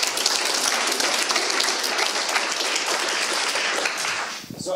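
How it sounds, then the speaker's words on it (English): A conference audience at a lightning-talks session applauds a speaker, dense sustained clapping that holds steady for over four seconds before thinning out, with a voice starting up right as it dies away. "Please give a warm hand of applause."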